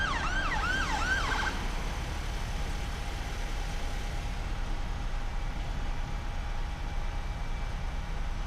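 Emergency vehicle sirens wail in rising and falling sweeps near a roundabout and bypass, clear for the first second and a half before they stop, leaving a faint steady tone over constant road rumble.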